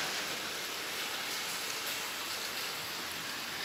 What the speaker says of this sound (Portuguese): A chuva tá muito forte agora, cara.